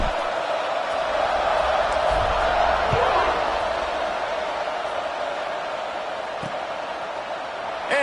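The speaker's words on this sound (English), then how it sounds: "this crowd is buzzing after that last score" Stadium crowd at a UCLA vs Penn State football game, a broad, steady roar of many voices held at a constant level, with a few brief thumps rising out of it.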